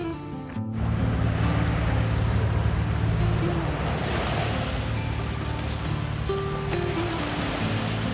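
Waves wash continuously against the shore of Lake Garda near Manerba del Garda, a steady close rushing surf with faint boat-like rumble beneath.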